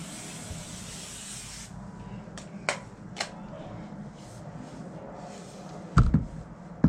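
A spray bottle hisses steadily onto thick fabric to kill mites, a continuous close-up spray for the first second and a half, followed by a few short, sharp bursts and clicks of the trigger.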